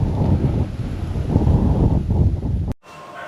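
Strong wind gusting across a microphone at Porcupine Gorge, a loud steady roar with buffeting low rumble for nearly three seconds before cutting out abruptly into near quiet.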